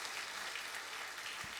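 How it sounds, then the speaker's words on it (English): Audience applause at a national health reform forum on youth mental health: a dense, even wash of clapping from a crowd, steady and fairly faint, lasting the whole short moment without talk. "Would you please give Patrick McGorry a round of applause?"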